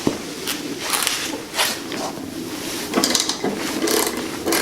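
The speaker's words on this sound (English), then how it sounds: "To remove the blades, I'm going to start with this 5/8 inch ratchet wrench." A 5/8 inch ratchet wrench loosens the blade bolt on a Husqvarna 2246LS riding tractor mower. Repeated close ratcheting clicks and strokes come in bursts through the whole stretch, with no talk.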